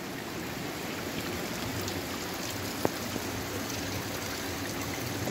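Water flows steadily from the Yanahaka falls inside rocky tunnels, an even, moderate rushing hiss with one faint click.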